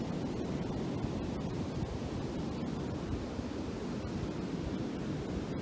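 Steady broadband ocean surf rolls continuously with a whooshing wash and some wind, moderately loud and unbroken, with no voices.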